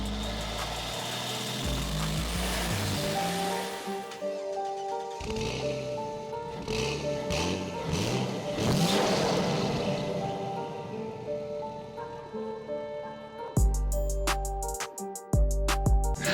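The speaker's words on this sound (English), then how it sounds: "We're gonna take the territory for a spin, and I've got it hooked up to two microphones, one on the intake, one on the exhaust." A turbocharged Ford Territory with a front-mount intercooler accelerates hard, recorded close at the intake and exhaust, its engine note rising loudly through the gears with brief drops at shifts and sharp bursts near the end.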